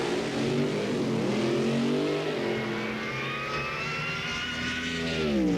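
Alcohol-fuelled drag racing funny car with a dragster engine screams at high speed, its loud engine pitch sweeping through rising and falling whines as it accelerates and passes, with no voices over it.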